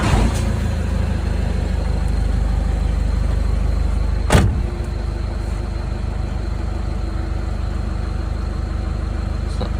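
A Nissan Navara D22 pickup engine runs at a steady, low idle, close by, with a brief sharp clunk partway through and a continuous deep rumble throughout.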